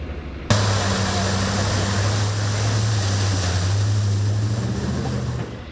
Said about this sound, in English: We see water here flushing out the streets from the debris